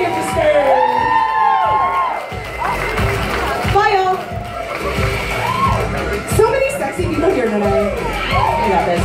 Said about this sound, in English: Round of applause for our wonderful people at Xavier to stay.